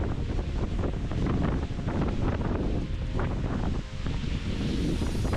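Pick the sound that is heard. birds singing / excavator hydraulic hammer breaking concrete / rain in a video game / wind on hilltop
wind on hilltop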